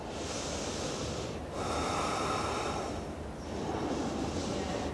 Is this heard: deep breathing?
yes